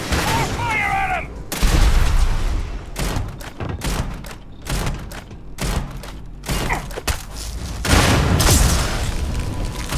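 Rapid bursts of gunfire and booming blasts from combat in the video game Starfield, loud and close, with a shouting voice over part of the fighting.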